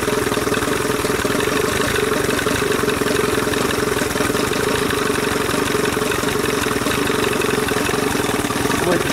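An Evinrude 30 hp outboard motor runs steadily up close during a timing check, a continuous rough, loud engine drone with a buzzing throb.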